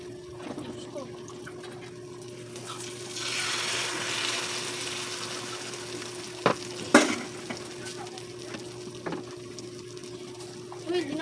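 Tortang talong, an eggplant omelette, sizzles and crackles steadily in a frying pan, with stirring scrapes and a few sharp clinks of utensils near the end.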